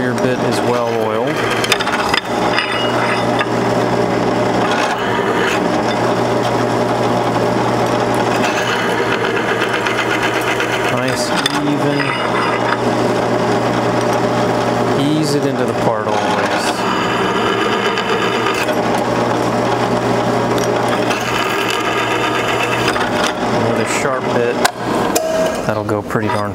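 Drill press with a well-oiled bit cutting into a metal plate while making mating plates, a steady whirring motor hum with gritty cutting noise running continuously and loud throughout.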